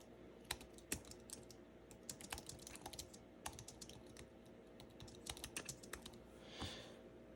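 Someone types quickly on an iPad Pro 11 M1 2021 keyboard. Crisp, close key clicks come in irregular bursts with short pauses, with no talking.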